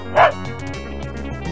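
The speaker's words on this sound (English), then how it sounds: "The dog ran to Luigi." Dog barking in the 1993 PC DOS educational game Mario's Early Years! Fun With Letters: a single bright, close bark at the start, followed by a cheerful synthesized music backing.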